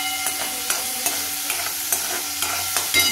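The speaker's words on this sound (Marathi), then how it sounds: "भाजीसाठी मी कांदा, टमॅटो आणि हे बघा लसूण हे परतून घेते." Onion, tomato and garlic sautéing in oil for a potato and spinach dish, with a steady close sizzle broken by repeated scrapes and clinks of a stirring spoon in the pan.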